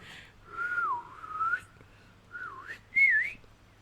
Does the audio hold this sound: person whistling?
yes